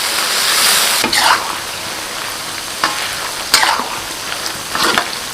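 Sichuan peppercorns, both green and red, stir-fried over low heat with rabbit meat in a wok, giving a steady gentle sizzle broken by several sharp scraping stirs.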